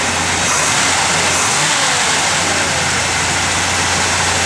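1966 Chevrolet Impala SS convertible engine idling smoothly, a loud continuous low hum with broadband rushing noise, steady throughout and without talk.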